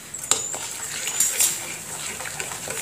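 Semolina being stirred into sugar syrup in a pan, with soft scraping, light metallic taps of a spoon and a thick, wet swishing, close and fairly faint.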